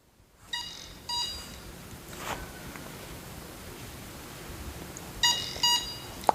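A Cornet ED88TPlus electromagnetic wave detector sounds its alarm in short bursts of high electronic beeping, two pairs of bleeps separated by a quieter pause with faint handling noise.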